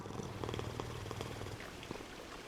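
A cat purrs in the video game Hades 2, a close, continuous rumbling purr with soft rhythmic pulses, steady and alone with no talking.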